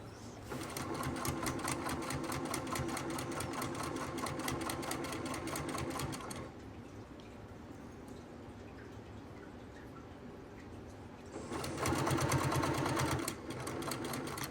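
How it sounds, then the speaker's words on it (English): A sewing machine with black thread stitches a flannel shirt in a rapid, steady mechanical chatter. It pauses briefly partway through, then runs again close and clear. "I just stay right at the edge of the blue and sew straight down it"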